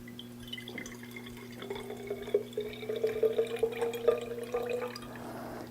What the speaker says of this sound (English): I'm going to take some ordinary sink water and I'm going to pour it into this flask